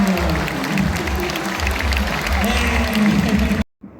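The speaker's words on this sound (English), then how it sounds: "A big round of applause for California" Applause from an audience at a zoo animal show in Singapore, a dense crowd clapping with a low rumble beneath, continuing steadily before cutting off abruptly near the end.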